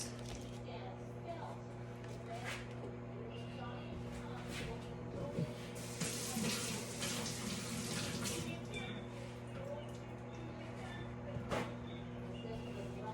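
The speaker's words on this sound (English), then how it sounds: "And now I need to rinse the blackberries." Steady tap water runs into a kitchen sink as blackberries are rinsed, a continuous close splashing wash with brief louder surges and a constant low hum beneath it.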